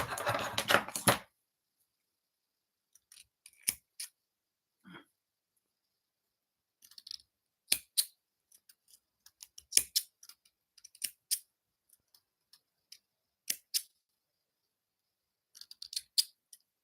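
Scissors snipping off excess yarn after crochet knots, a series of sharp, close, quiet clicks and snips scattered with pauses between them.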